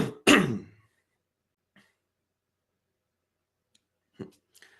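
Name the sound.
cough and throat clearing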